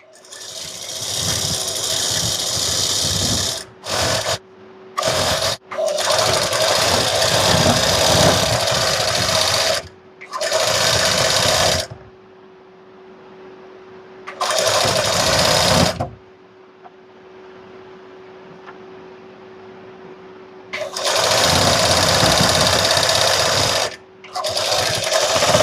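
Electric sewing machine stitching a straight palazzo seam, running in loud close bursts of steady whirring with short pauses between runs and one longer quiet gap mid-way.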